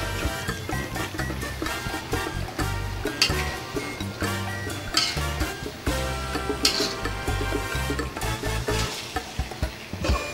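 Steady sizzling and scraping as flat rice noodles (kuey teow goreng) are stir-fried in a hot pan, with occasional clinks of a utensil against the metal.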